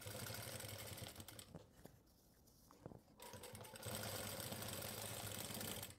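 A sewing machine stitches an invisible zipper in a tailoring boutique, running steadily and close by, pausing for about a second before starting up again at full speed.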